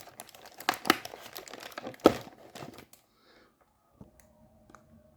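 Plastic packaging crinkles and tears around a Kenshin Himura figurine by Luminasta, a quick burst of close rustling and crackling over about three seconds, then near silence with a few faint clicks.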